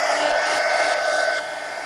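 A handheld drying tool blows a steady, loud airy whoosh across pearl medium on a mixed media magazine journal page, close and unbroken, dropping slightly in level near the end with no talking.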